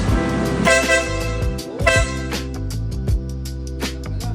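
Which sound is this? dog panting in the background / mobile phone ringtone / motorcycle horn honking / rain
motorcycle horn honking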